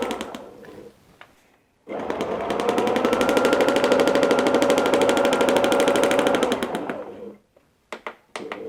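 A domestic sewing machine free-motion quilting runs in a fast, loud, continuous mechanical stitching burst for about five seconds, with short stop-start runs before and after.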